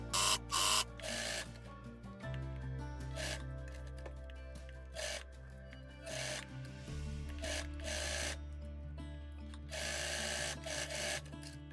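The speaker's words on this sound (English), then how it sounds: "So now we're gonna stitch this and then finish that seam." A sewing machine stitches the seam of a Serenade sew-along dress in several short, whirring bursts with pauses between, heard over quiet steady background music.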